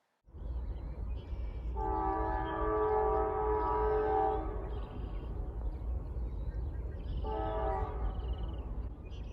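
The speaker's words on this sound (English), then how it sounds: "You got that right, there's a train coming." A CSX freight train approaches and sounds its horn in two blasts, a long sustained chord followed after a pause by a shorter one, over a steady rumble of the moving train outdoors.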